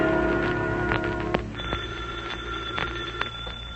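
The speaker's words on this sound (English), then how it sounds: "I think the phone's ringing." A telephone rings in repeated bursts, a steady electronic trill that carries through the whole stretch, fairly close and with nobody talking.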